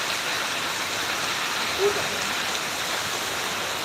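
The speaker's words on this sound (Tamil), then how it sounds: "காத்தடிக்குது காத்தடித்தோடனே கொஞ்சம் மழை குறைஞ்சிருச்சு" Steady hiss of rain falling in Srivilliputhur, broad and continuous, with a gusty wash of wind blended in; no voices stand out.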